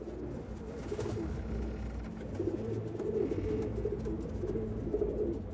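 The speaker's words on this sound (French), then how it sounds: "des centaines de pigeons voyageurs en cage, sont transportés de cette façon" Hundreds of caged homing pigeons coo together in a dense, overlapping murmur of soft throaty calls, steady and fairly close throughout, with no voices heard.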